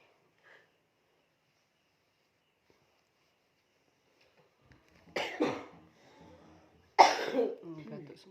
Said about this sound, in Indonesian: satu rumah ini batuk semua